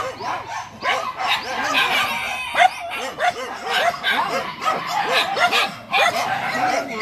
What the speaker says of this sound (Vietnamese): Mấy con chó nó ra luôn à.